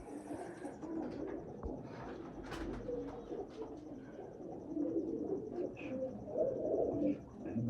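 Breeder pigeons coo softly in a loft, low throaty repeated calls at close range, quiet and continuous with faint background rustle.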